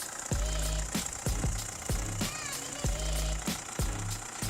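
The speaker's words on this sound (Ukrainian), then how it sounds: "Двигун працює рівно, оборти не плавають" Diesel engine of a 2011 Opel Zafira 1.7 minivan idling with heavy, regular knocking pulses about once a second, close and loud, with a steady mechanical rattle between beats.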